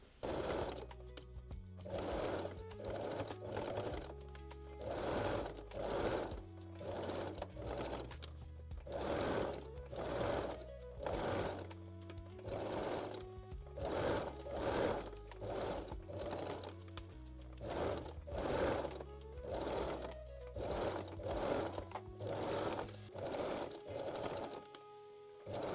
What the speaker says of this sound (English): Now we can stitch the bottom edge again.